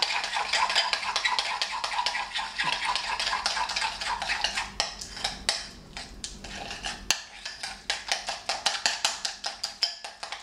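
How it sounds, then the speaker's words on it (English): A peppermint-oil skin cream mixture is stirred in a bowl, with a spoon scraping and clinking against the sides in quick repeated strokes, softer at first and then in sharper, distinct taps, all close and without talk. "I'm going to give that all a good stir up."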